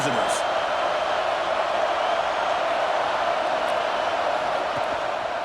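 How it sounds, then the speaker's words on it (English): Stadium crowd roar in EA Sports College Football 26, a steady dense wash of noise from a large audience filling the whole stretch without pause. "Listen to the crowd energy here in the early going."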